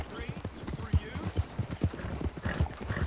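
Hooves clop steadily in rhythm as a horse moves in Red Dead Redemption 2, a fairly close and even beat under a player's voice.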